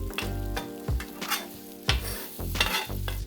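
Eggs sizzle and are stirred and broken up with metal spatulas on a hot Steelmade flat top griddle, steady frying hiss broken by several sharp scraping strokes, close and clear with no talk.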